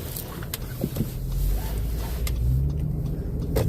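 A car travels along a road, its low engine rumble and road noise holding steady and close, apparently heard from inside the vehicle.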